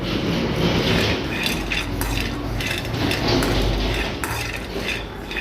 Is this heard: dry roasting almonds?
yes